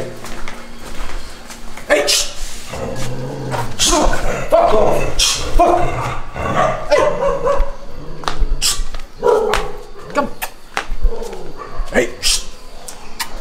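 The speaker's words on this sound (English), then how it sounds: "This is our dog." A dog barks repeatedly in sharp, irregular bursts near a riverside walk, mixed with yips and whimpers, while people talk and call out over it.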